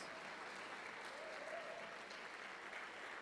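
Church congregation applauding the Lord during a Portuguese-language worship service, a dense, steady wash of many hands clapping that holds evenly throughout, with faint voices mixed in beneath.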